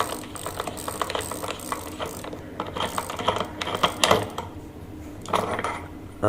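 A freewheel sprocket being loosened from the hub motor of a fat-tire electric bike, heard as steady ratcheting, clicking metal with irregular louder clanks, close by and with no talking.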